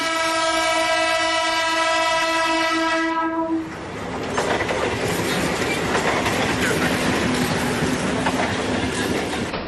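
A commuter train on a busy Mumbai railway line sounds a long, steady horn, then thunders past close by with a loud, sustained rumble and rattle of wagons over the tracks.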